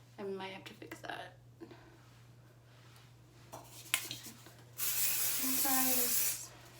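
Voices talk briefly, then a steady hiss of hairspray from an aerosol can bursts out for about two seconds, close and fairly loud, with speech overlapping.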